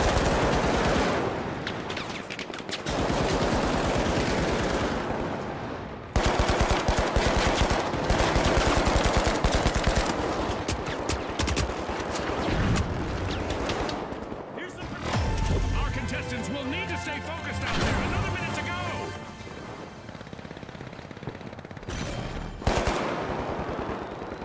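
Rapid automatic gunfire bursts and single shots crack repeatedly in the first-person shooter The Finals, played on Xbox Series X, loud and dense throughout, with a player talking over the fighting.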